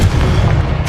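Confringo spell explosion in Hogwarts Legacy, a loud, dense, rumbling boom that fills the whole moment with sustained low-end roar.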